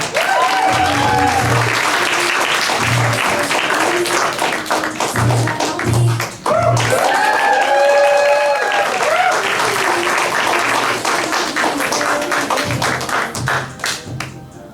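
A comedy club audience at the Arcade Comedy Theater breaks into sustained, loud applause and clapping as the next comedian is introduced, with scattered cheers and voices mixed into the steady roar.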